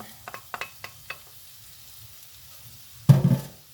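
A pan bubbles with scattered small pops and taps, then a sudden louder burst of sizzling as onion goes into the hot fat for chicken samosas.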